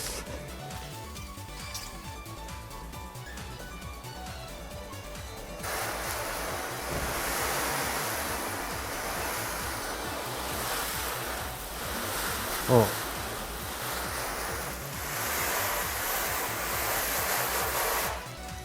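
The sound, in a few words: washing a car with water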